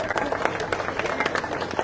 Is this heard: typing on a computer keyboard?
no